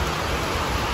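Heavy downpour pounding steadily, a loud dense broadband hiss of rain with no break or change, no voices over it.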